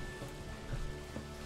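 Steady rain falls outside in Sniper Elite V2, a soft continuous hiss of drops on surfaces with faint low rumbling underneath, even and unbroken throughout.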